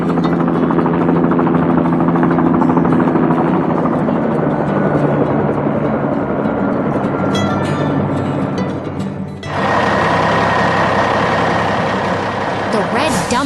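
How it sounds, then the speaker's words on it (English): A red dump truck rumbles in a 3D construction animation, its heavy engine droning loudly and steadily with a low rhythmic throb, shifting to a brighter, harsher tone partway through, with no speech. "The red dump truck returns, but this time it's bringing fresh materials to rebuild the station from the ground up."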